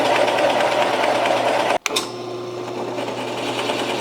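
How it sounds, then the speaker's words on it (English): A wood router cuts cavities into a burl-top bass guitar body, a loud, close, high-pitched whine that briefly cuts out and restarts, then continues as a steady buzzing drone with no speech. "The router will have a whole lot less work to do."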